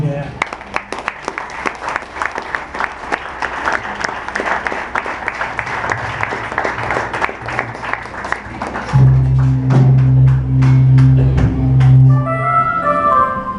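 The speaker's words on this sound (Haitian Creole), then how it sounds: "Commencez par applaudir Seigneur" A church congregation claps along in rhythm during worship, sharp regular claps under singing and voices, with sustained music tones joining later.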